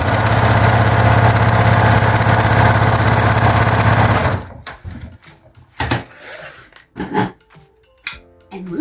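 A sewing machine turned all the way up runs loud and steady at full speed for about four seconds, then stops, followed by scattered knocks and handling sounds.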